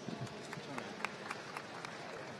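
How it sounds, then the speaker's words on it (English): Audience applause at a World Barista Championship event in 2018, a dense, steady wash of clapping from a crowd with scattered sharper claps standing out, holding evenly throughout. "One more round of applause"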